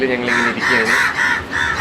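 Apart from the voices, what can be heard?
crow cawing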